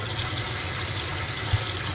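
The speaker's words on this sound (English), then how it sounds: "Inside now, got that good hot water flowing." Hot water runs steadily from a tap during the rinse of a pleated wig-wag tie-dyed tee, a continuous faint hiss and splash with a small knock near the end.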